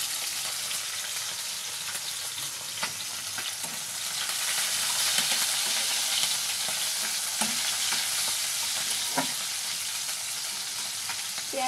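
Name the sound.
onion, green chili and garlic frying and being stirred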